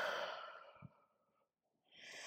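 A soft, breathy exhale during a yoga flow trails off into silence, followed by the start of another quiet breath.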